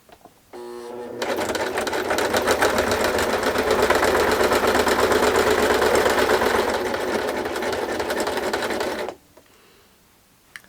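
A sewing machine stitches quilt fabric with a quarter-inch presser foot, running in one continuous rapid mechanical whir for about eight seconds, close and loud, then stopping, with brief clicks before and after.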